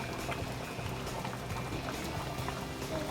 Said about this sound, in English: So we got the sweet potatoes on boiling for the sweet potato casserole and the eggs for the deviled eggs.